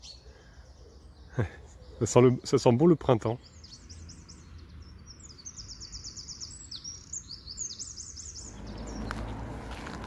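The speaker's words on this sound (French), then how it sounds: "Il y a des petits oiseaux qui se cherchent là-bas." Small birds chirp and twitter outdoors in spring near a village, a steady run of high, light calls behind a person talking nearby.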